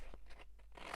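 Quiet, quick snips of scissors while cutting out a luminaria tree craft: four short crisp cuts in about a second, close and faint, with no voices.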